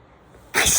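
A person sneezes once: after a quiet, faintly hissy lead-in, a sudden, loud, breathy burst arrives close up and fills the rest of the moment.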